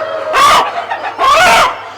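A large Sonali chicken gives two loud, close clucking calls with a short pause between them over a low steady hum.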